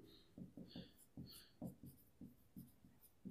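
Pen or pencil writing out a subtraction by hand for a math exercise: faint, close scratchy strokes in short regular bursts, alone with no talking.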